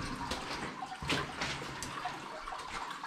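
Water cascades over rimstone gours inside a German WW1 tunnel, a continuous splashing trickle with brief louder spurts and no voices.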